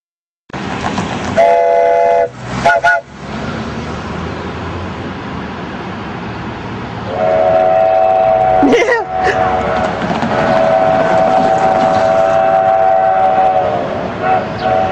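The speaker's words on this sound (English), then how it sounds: "The train should be coming in pretty soon." A Durango and Silverton train rolls in with loud rumbling and clattering, a horn sounding in long steady blasts, with a couple of sharp metallic bangs along the way.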